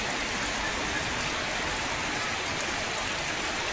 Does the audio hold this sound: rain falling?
yes